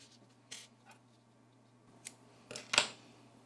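Several short, crisp snips of scissors cutting crochet yarn while finishing an amigurumi mule's body, with the strongest cut near the end against a quiet background.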